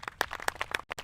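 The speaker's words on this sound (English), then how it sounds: "Let's have a warm round of applause for Betsy and Duff," Guests at a National Maritime Day ceremony in Baltimore clap, heard as a short burst of distinct, close, uneven claps from a small group.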